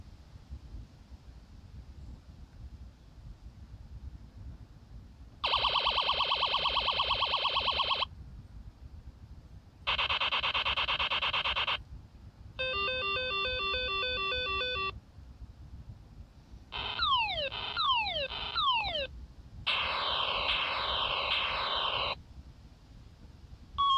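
A small Radio Shack electronic gadget plays a run of synthetic sound effects: steady tones, warbling trills, and sweeping zaps in separate bursts of a few seconds each, with quiet gaps and a low hum beneath.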